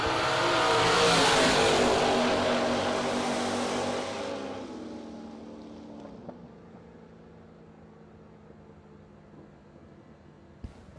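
A 1967 Camaro drag car launches at a drag strip with a loud, rising engine roar that peaks, then fades as it speeds away into the distance.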